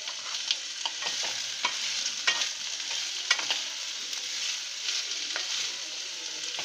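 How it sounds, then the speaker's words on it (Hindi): Potatoes and mixed vegetables sauté in a pan for a vegetable pulao, giving a steady broad sizzle with scattered clicks and scrapes of stirring, close and moderately loud, with no talking. "पटेटोस और इन वेजीज को हम अच्छे से 1 से 2 मिनट सौते कर लेंगे"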